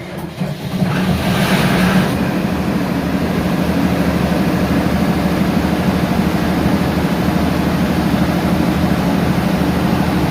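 Flood-control pump engines run steadily inside a pump house, a loud continuous low rumble and drone with a brief brighter burst near the start, no talk.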